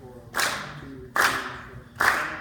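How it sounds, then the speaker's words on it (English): Three sharp bursts of audience clapping at a music talk, each loud and crisp, landing on beats 2 and 4 in a steady rhythm with short quiet gaps between. "Now you're clapping 2 and 4."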